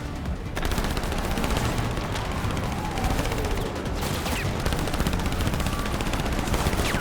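Rapid automatic gunfire from cars in a vehicle chase in the video game Split Fiction, dense continuous bursts lasting throughout, loud and close.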